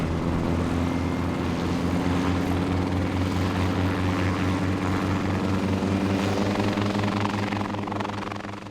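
Continuous drone of a propeller aircraft engine in flight, a steady throbbing hum heard from inside, loud and unbroken, fading a little at the very end.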